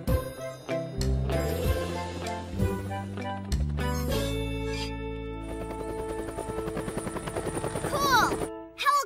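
A cartoon helicopter whirs in a children's animated show, its steady rotor buzz rising under cheerful music and chimes, with a brief jingling flourish near the end.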